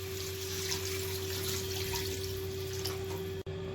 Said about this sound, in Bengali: এবার এর মধ্যে একটু উষ্ণ গরম জল ঢেলে দেবো।